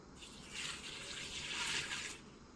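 Water pours onto an orange tree growing indoors, a steady gushing stream that swells and holds for about two seconds before cutting off, close and fairly loud with no voices.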